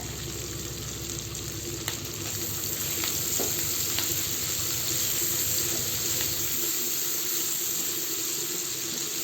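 Chicken pieces with capsicum and onion fry for dry chilli chicken, a steady, close, rushing sizzle that fills the whole stretch, with a few faint clicks from the pan and no voices.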